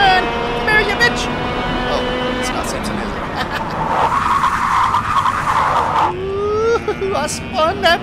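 A go-kart spins out on a dirt-track run, its tires skidding in a loud, sustained screech over the engine's drone, with excited voices talking and shouting throughout.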